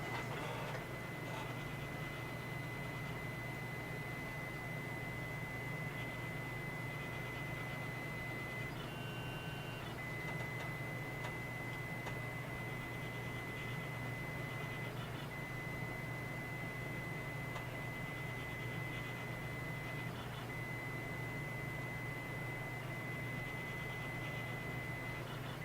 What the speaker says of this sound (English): Yeah, it's just a 3D printer.